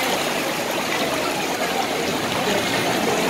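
Floodwater in the Pantanal rushes and gurgles steadily, a dense, even wash of flowing water heard up close with no pauses and no voices.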